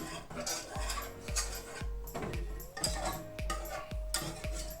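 Chocolate cake batter mixed with milk in a bowl, stirred with a utensil that makes regular clinking taps against the bowl in a slow repeating rhythm, close and fairly quiet with no talk.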